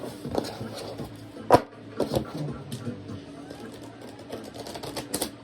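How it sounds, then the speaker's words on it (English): Soft papery riffles and brief slaps of a tarot deck being shuffled, a few sharp snaps standing out over a low background murmur. "Let's give it a quick shuffling."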